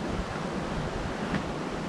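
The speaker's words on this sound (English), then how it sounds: "the river's starting to go down a little bit, but not much. It's still roaring." A roaring river running high after being swollen, a steady broadband rush of water heard outdoors, constant and fairly loud with no pauses.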